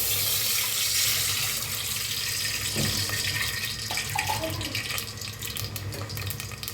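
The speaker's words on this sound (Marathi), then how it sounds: "आता ह्याच्यात पाणी ओतायचं आहे।" Water pours into a cooking pot set up with a little oil for a traditional village-style vegetable dish, making a continuous, close, rushing splash that holds steady throughout.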